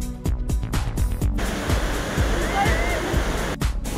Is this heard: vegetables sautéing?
no